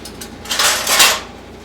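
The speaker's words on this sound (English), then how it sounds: "Put the wok back on, wok stand back on," A wok and wok stand set back down on an IncrediGrill, a short metallic clatter and scrape lasting about a second, close and fairly loud.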